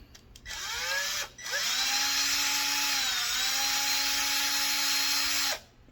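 Power tool, likely an electric screwdriver, whirring out screws from a Traxxas RC car differential, a short spin, a brief pause, then a longer steady high whine that stops abruptly, close and loud.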